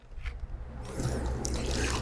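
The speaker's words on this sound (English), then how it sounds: "And now I'm going to add a little bit more water to my trough." Water pours into a trough of hand-mixed historic mortar, a brief splash and gurgle that starts after a few faint drips and runs steadily to the end, close and moderately loud.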